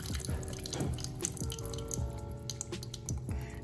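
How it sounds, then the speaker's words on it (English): Preservative liquid is poured out of a can of corn, giving a steady trickling and dripping of liquid that stays continuous and close for a few seconds, with no voices. "I'm gonna pour out this preservative liquid"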